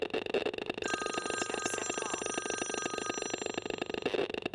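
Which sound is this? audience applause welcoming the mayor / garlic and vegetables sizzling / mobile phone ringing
mobile phone ringing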